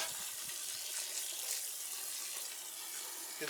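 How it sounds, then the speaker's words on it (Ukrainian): Water poured into a pot of beer mash on a wood-fired brew setup, a steady hissing splash throughout at moderate level. "просто водою зараз підбавимо"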